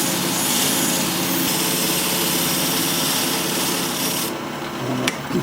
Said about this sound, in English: Most of this is going to rely on the Dremel tool.